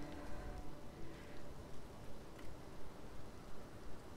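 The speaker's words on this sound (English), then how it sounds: "That's rain," Soft, steady rain falls in the video game Elden Ring, a faint, even patter with gentle swells and no voices.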